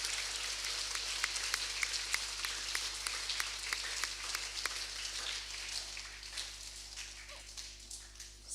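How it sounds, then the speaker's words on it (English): Applause for children at a school presentation day, steady crowd clapping that fills the first several seconds and then thins and fades toward the end. "Please give these children a round of applause"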